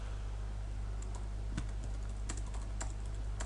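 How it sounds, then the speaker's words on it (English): Clicking keys on a computer keyboard while typing a social media message, a quick uneven run of close, crisp taps over a low steady hum. "let's just type something here"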